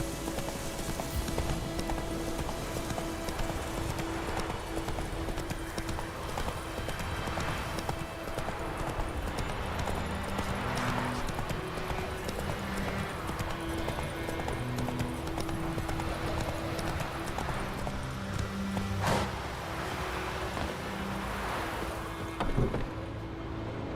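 A horse gallops in The Witcher 3, its quick rhythmic hoofbeats running steadily throughout, close and fairly loud beneath game music and background ambience.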